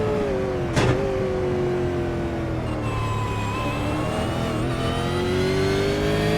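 On-board race car engine at Bathurst, a loud sustained motor drone with rising and falling revs as the car accelerates and shifts, heard close from inside the car.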